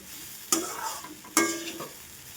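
Poha upma sautés in a pan with a steady close sizzle, broken by two sharp scraping stirs of a spatula about a second apart.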